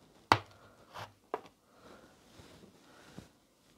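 A knife cuts into a block of butter, giving a few sharp taps against the board with quieter scraping in between, close up and with no talking.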